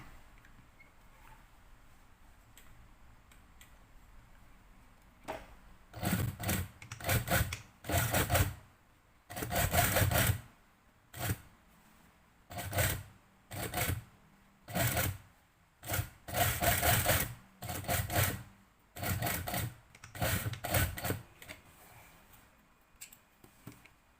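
A sewing machine stitches elastic-waist trousers in a long run of short, rhythmic whirring bursts with brief pauses between them, close and fairly steady after a quiet start.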